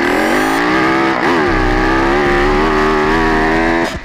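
Onboard Yamaha 450 motocross motorcycle on the Saint-Jean-d'Angély track, its engine loud and close, revving up and down through gear changes with rising and falling pitch, no talk.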